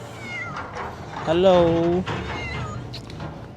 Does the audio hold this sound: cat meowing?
yes